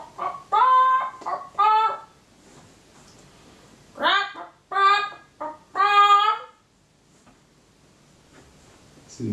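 A person imitates a chicken's clucking for a guessing game, producing close, loud bursts of nasal squawks in two clusters separated by a quiet pause.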